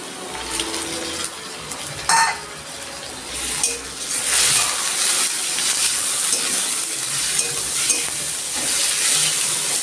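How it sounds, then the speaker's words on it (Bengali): Prawns dropped into a pan with crushed garlic crackle and sizzle loudly, the frying swelling after a couple of seconds, with occasional clinks of a utensil against the pan. "আমি দিয়ে দিচ্ছি চিংড়ি মাছগুলো।"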